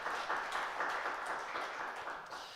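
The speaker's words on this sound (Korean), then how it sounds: "우리 하나님 앞에 영광의 박수 올려드리겠습니다." Applause from a church congregation at a Korean Sunday worship service, a soft, continuous patter of many hands clapping, fairly distant and even throughout.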